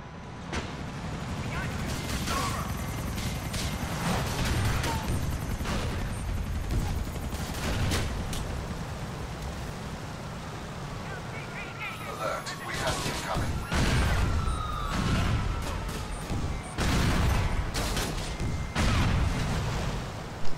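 Gunfire and missile blasts in GTA IV with an Iron Man mod, a continuous barrage of shots, crashes and booms layered over dense game noise, with a voice talking through part of it.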